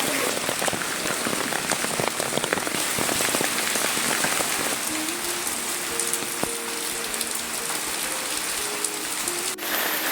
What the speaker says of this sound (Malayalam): നല്ല മഴ, തിമിർത്ത് മഴ.